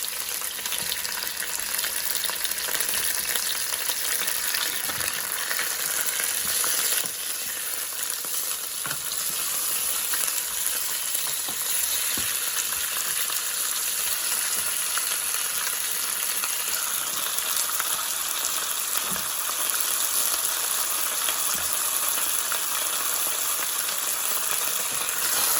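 Chicken pieces sizzle and fry in masala in a pan over lowered heat, a steady dense crackle running throughout with occasional stirring, no talking.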